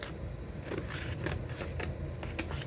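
Scissors snipping through folded crepe paper rolls for a giant paper peony, a quick run of close, soft cuts over a steady background hiss, with no talk.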